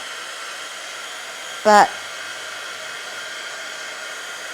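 A hair dryer blows on wet watercolour paint on round paper, a steady even whoosh running throughout, broken once by a brief spoken word.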